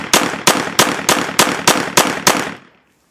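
Taurus TX22 Gen 2 pistol firing .22 Remington Thunderbolt rounds, eight sharp, loud shots in a steady rapid rhythm about a third of a second apart, then quiet.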